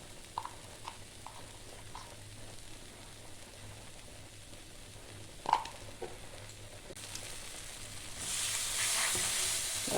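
Turmeric and chili powder sizzle and fry in a pan as they are stirred for a potol dolma, with soft scraping clicks and one louder clack midway, the frying hiss swelling louder near the end.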